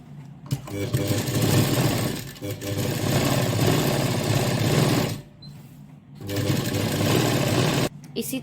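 An electric sewing machine stitching a blouse along marked lines runs loud and steady in three long bursts separated by brief pauses, with a voice talking over it.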